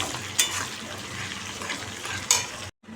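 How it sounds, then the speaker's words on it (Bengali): Garlic, green chili and ginger fry in hot oil with a soft, continuous sizzle, broken by two sharp utensil clinks against the pan before it cuts off. "রসুন কাঁচা লঙ্কা আদা কুচি করে কাটা আছে এগুলো সব দিয়ে ভালো করে ভাজবো"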